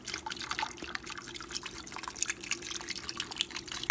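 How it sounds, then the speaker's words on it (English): Organic beef broth poured into the bottom of a pot around a pot roast gives a steady trickling, dripping splash of liquid close by, with no talk. "Then I'm just going to add on the bottom a little bit of beef broth."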